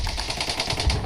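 Gunfire crackles in rapid bursts, a loud, dense rattle of shots repeating several times a second and filling the whole moment without pause.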